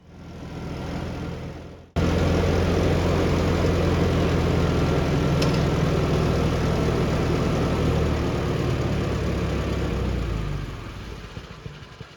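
A loud tractor engine starts abruptly and runs at a steady, throbbing idle close by, then winds down toward the end.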